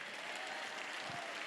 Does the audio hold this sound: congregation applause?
yes